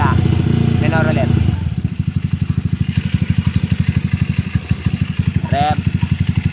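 Loud motorcycle idle with a brief rising rev at the start that settles back into a steady, rapid thumping idle; someone speaks briefly over the engine.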